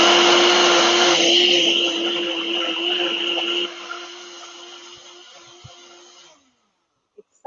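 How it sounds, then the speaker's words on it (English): Blender whirring as it purées three ingredients, a loud, steady motor drone that shifts pitch partway as the blend thickens, then winds down and stops, followed by a couple of soft clicks. "we've got the ingredients in the blender, and again, just 3. And I'm just going to blend it."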